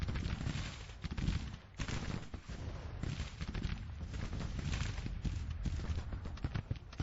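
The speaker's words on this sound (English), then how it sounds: "They're trying to bombard this position here with Aries battalion of artillery" Artillery bombardment in Grand Tactician: The Civil War rumbles without pause, dense low thuds and crackling volleys piling up in a heavy, distant-sounding barrage.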